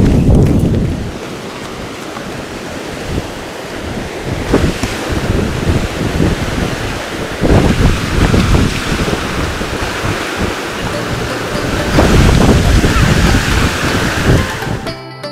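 Mountain stream and waterfall near Gergeti Glacier in Kazbegi, Georgia: a steady, broad rush of water fills the whole stretch, loud and continuous, with gusts of wind buffeting the microphone and no talk.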